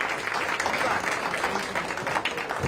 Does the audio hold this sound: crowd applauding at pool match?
yes